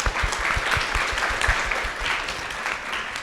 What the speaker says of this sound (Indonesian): Kita sekali lagi beri tepuk tangan yang meriah.